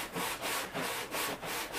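Rhythmic back-and-forth sanding strokes, about five passes with brief pauses between, close and fairly steady, with no voices.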